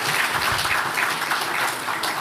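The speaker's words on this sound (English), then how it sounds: "Let's clap for the champions." An audience at the Ghana Football Association ordinary session claps for the league champions, a steady wash of applause across a hall without speech over it.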